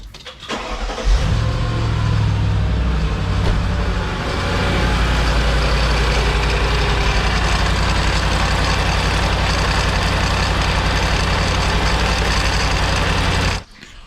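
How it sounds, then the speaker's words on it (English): A Mercedes SL55 AMG with a failed supercharger bearing starts and settles into a steady, loud idle, its low engine rumble overlaid with a constant grinding, rattling bearing noise from the top of the engine, close by for about twelve seconds. "terrible noise from the top of the engine on idle"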